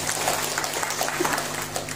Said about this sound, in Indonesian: Tepuk tangan untuk Bapak-Bapak sekalian.